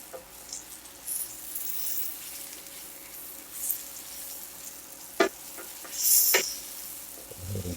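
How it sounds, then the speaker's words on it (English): Lemon slices sizzle and fry in a pan for a chicken francaise, with a steady crackle throughout, a few sharp utensil clinks as the slices are stirred, and brief louder bursts of hiss; no one speaks. "We get our lemon slices in there, man. Move them around."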